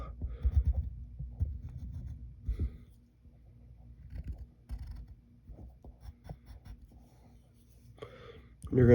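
A pen or marker drawing a curved banana-peel shape on paper, a soft scratchy writing sound in short strokes with pauses, fairly quiet and close, with a low hum underneath.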